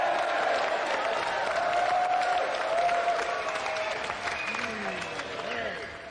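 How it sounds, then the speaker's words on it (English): A studio audience at a video game TV show applauds the winner, sustained clapping that slowly fades, with a voice speaking over it. "let's have another round of applause for our winner, Sonny Nair"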